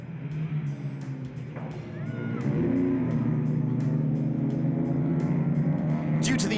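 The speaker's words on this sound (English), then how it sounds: "The field make their way around the track and past the stricken cars strewn around turn 1." Race cars circle a track past stricken cars strewn around the first turn, a steady engine drone that swells louder midway and holds, with faint commentary-like voices underneath.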